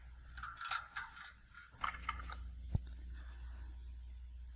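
Small mechanical clicks and ratcheting taps from adjusting an electric guitar's bridge to lower the string action, quiet and close, with a brief sharp click near the end over a low background hum; no one speaks.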